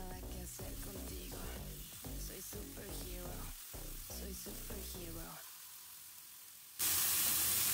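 Chopped vegetables and onion sizzle in a pan over a medium flame, a steady close hiss with stirring clatter and scraping. A louder burst of sizzle comes near the end.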